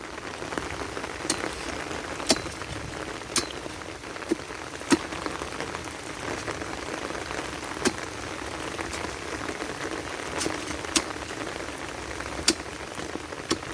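Rain falls steadily outdoors by a fish pond, giving a continuous close patter on the ground and surfaces, with scattered louder drips and taps now and then.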